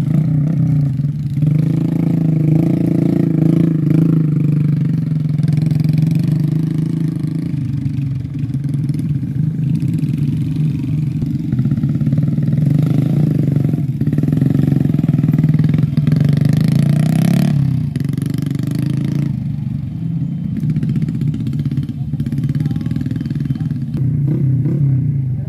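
Motorcycles loaded with sacks ride along narrow paths through rice fields, a steady close engine drone with rising and falling revs and some rattling clatter throughout, loud with no talk.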